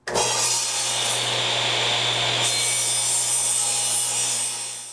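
Delta 36-725T2 table saw cutting wood with a well-used, slightly gummed-up 60-tooth finish blade: a steady, loud, close rasping whine sustained throughout, with a low motor hum underneath, brief tonal shift midway, no speech.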